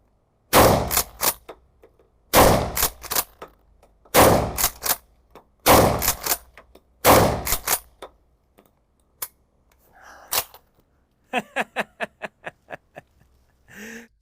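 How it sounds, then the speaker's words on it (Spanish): Hatsan Escort pump-action shotgun fired five times in steady succession, each loud, sharp blast followed by the clack of the slide racked back and forth, then a lighter run of mechanical clicks near the end. "con fuerza hacia adelante y hacia atrás y disparamos"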